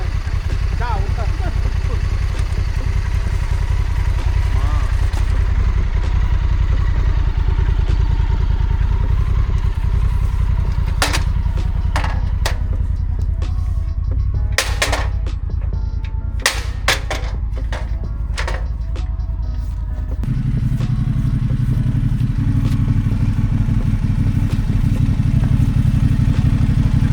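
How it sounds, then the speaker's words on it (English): Motorcycles being loaded onto a trailer outdoors in winter: a steady engine drone runs throughout, with scattered metallic clanks and knocks in the middle, people talking over it, and the engine note deepening near the end. "it was time to carefully load the bikes back onto the trailer"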